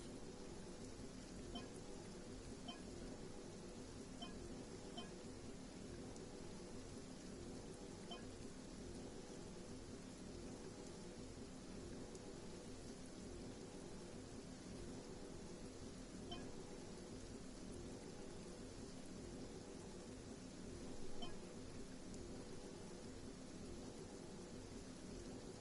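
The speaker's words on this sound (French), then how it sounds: "Ah bah il pleut." Steady rain pours down on an outdoor lantern festival, a dense, even hiss that continues unbroken throughout with no clear thunder.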